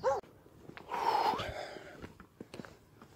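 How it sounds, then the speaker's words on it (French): A dog barks in a small village along the GR 65 pilgrimage route in France: a few short, sharp barks at moderate distance, with a louder burst near the start and scattered yips afterward over outdoor ambience. "Oh oh, un chien, Souillon."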